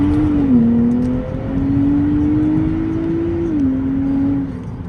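A 2023 Nissan Z accelerates hard on a street, its engine note climbing through the gears with a brief dip at each shift, loud and close and heard alone.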